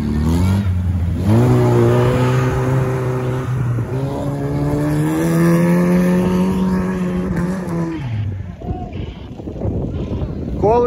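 An off-road trophy sprint race car engine cranks and catches, then revs repeatedly with rising and falling harmonic tones, close and loud, before cutting off near the end into quieter background noise.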